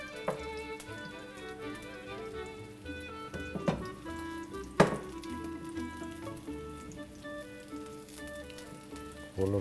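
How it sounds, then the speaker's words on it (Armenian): Mushrooms frying lightly in a pan, a soft crackling sizzle with scattered pops, fairly quiet and close, mixed with faint clinks and a tonal hum in the background. "թեթև իրան տապակել"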